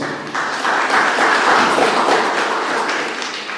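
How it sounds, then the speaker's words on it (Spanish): An audience at a literary event applauds, a dense, even wash of clapping that holds steady and fairly loud for a few seconds with no one speaking over it. "Vamos a recibir con fuertes votos de aplausos."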